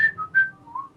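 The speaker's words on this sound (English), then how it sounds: "He's whistling in the mic." A man whistles straight into a microphone during a casual Magic 2015 gaming session: three short, close, loud whistled notes with brief gaps and no talking.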